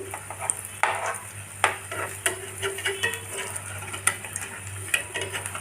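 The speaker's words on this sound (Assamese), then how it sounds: "অকণমান তলটো ভালকৈ যাতে ভাজ খায় সেইকাৰণে অকণমান লৰাই দিছোঁ" Batter frying in a pan while being stirred: repeated scraping strokes and light taps over a steady low sizzle, close and moderately loud, with no voices.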